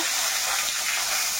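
Five-spice and bay leaves sizzle in hot oil left over from frying pond fish, a steady, close, bright hiss with no pauses.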